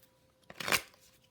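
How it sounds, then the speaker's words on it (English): A deck of tarot cards gets one quick riffle, a single close, crisp burst of fluttering card edges lasting about a third of a second in an otherwise quiet room. "I'm just going to shuffle a few more times"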